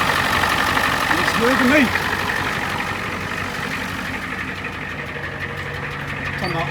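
An OBS Ford truck engine idles steadily with its air conditioning running, a constant mid-pitched rumble heard close, while someone briefly speaks over it.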